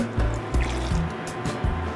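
A cup of cold water dumped into a pot of boiling water while cooking shrimp dumplings, a close splashing rush with bubbling, several surging pulses over two seconds, with no talk.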